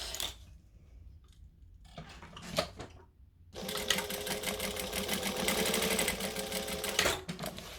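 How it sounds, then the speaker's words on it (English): A sewing machine stitches a wallet at a slow, careful pace, with quiet handling sounds first, then a steady, dense run of stitching that continues for several seconds before stopping near the end. "You also notice I don't go too fast with that sewing. I'm trying to do precision sewing."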